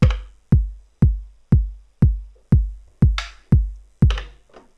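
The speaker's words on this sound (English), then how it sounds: "Default sounds from the Digitakt sounds like this." Elektron Digitakt drum machine playing its default bass drum, ten evenly spaced punchy kicks about half a second apart, each with a sharp attack and a short booming decay, dry and up close.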